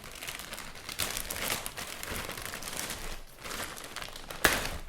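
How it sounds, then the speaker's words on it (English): A watch box's packaging, a bag holding a large box, torn open by hand without scissors: a run of crinkling, crumpling and ripping bursts over several seconds, ending in one sharp louder tear near the close. "So why don't we go ahead and rip this box up."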